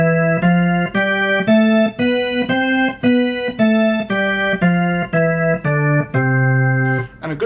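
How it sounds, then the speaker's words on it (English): A major scale rings out on a pitched instrument as a run of about fourteen clear, evenly spaced sustained notes that step up and back down, loud and alone with no talking. "The major is probably the most common scale in all of music"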